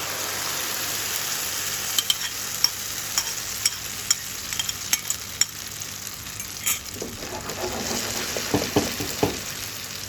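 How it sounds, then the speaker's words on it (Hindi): Cheese omelette egg mixture cooking in three to four tablespoons of ghee, a continuous low sizzle with scattered crackles and a run of spatula stirring taps toward the end, close and without talk. "अब हम इसमें घी डालेंगे 3 to 4 टेबल स्पून। अब हम इसमें ये मिक्सचर ऐड करेंगे।"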